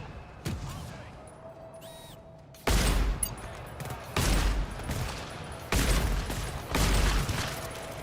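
Turret gunfire in a shooter video game comes in loud bursts of rapid shots, several sustained volleys separated by short pauses, close and dominant over a quieter background.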